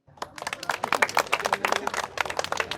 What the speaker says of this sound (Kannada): ದಯವಿಟ್ಟು ಚಪ್ಪಾಳೆ ಹಾಕಿ.